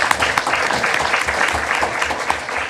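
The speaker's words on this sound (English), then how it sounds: "I ask we give them a round of applause for the work that they do." Audience applause at a county commission meeting, a brief burst of many people clapping steadily at moderate volume, fairly close and alone without speech.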